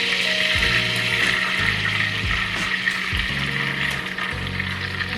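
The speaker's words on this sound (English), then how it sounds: "I've got my butter melting here." Butter melting in a pan on a stove, a steady soft sizzle and crackle with faint kitchen clatter, close and alone without talk.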